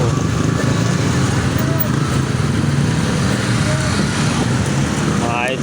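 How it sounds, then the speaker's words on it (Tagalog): Busy roadside with many motorcycles passing in a continuous, loud engine roar of overlapping traffic that barely lets up, with a brief voice or two underneath. "Dami na pong motor, ayan po."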